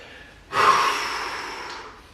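A single heavy exhale follows a short quiet lead-in. The breath is close and breathy, with no talk, as a person recovers after a gym workout session.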